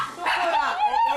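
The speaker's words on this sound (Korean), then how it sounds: "시윤이 곁에서 짖어대는 쪼꼬" A schnauzer beside a small child at home lets out close, yappy, whining barks that run together over about a second.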